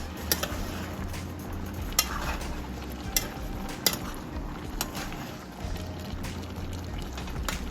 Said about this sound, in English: I think it's time to stir these green beans